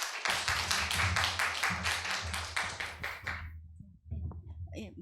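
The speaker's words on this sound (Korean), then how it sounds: "큰 박수로 맞이해 주시기 바랍니다." A small audience at an academic tea culture symposium claps in a brisk, rhythmic patter for a few seconds to welcome a professor, then the clapping stops and a voice begins speaking.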